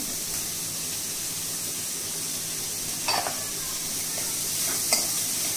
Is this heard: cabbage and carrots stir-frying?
yes